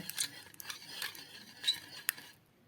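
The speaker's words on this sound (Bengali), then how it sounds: "ডিম তেল দুধের সাথে ভালোভাবে মিশিয়ে নেব" Whisk against a bowl mixing egg, white cooking oil and milk for a sponge cake: light, irregular clinking and scraping strokes, fairly faint and close, with no talk.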